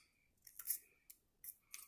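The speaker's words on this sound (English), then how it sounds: "once they're folded in half, I'm going to cut it" Scissors snipping through folded paper strips for a ladybug craft, four short crisp cuts in an uneven rhythm, close and clear with no talking.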